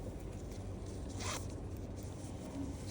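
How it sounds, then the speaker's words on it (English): A zipper is pulled open in one quick rasping run midway through, close by, over a steady low hum with no talking. "I want you to open this up to see"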